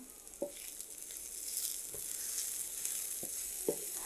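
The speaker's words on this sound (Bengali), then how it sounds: "পেঁয়াজটা আমি খুব বেশি ভাজবো না এটা প্রায় ভাজা হয়ে গেছে" Onions frying in a pan for a tomato dish, a steady soft sizzle with a few sharp stirring clinks and scrapes at intervals, close and fairly quiet, with no voices.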